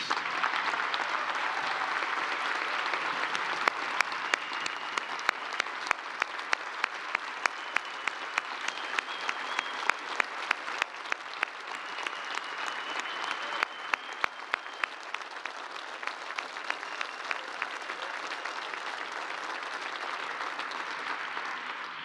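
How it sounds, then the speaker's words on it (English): A large audience applauds the families of newly chosen astronaut candidates at a White House event, a sustained dense wash of clapping lasting over twenty seconds with a few sharper individual claps standing out. "Let's give these families another round of applause."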